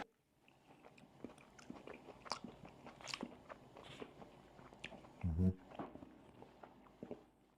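Someone chews a spoonful of corn and beans from an Estonian military ration, with soft close-up biting and crunching sounds, quiet and intermittent, plus a brief thump.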